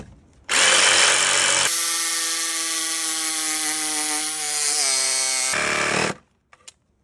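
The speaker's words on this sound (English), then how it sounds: "Next, the jigsaw." A jigsaw plunge cutting on a construction site: a loud, close motor whine starts abruptly, runs with a steady buzzing pitch that dips slightly under load, then cuts off, leaving a couple of faint clicks.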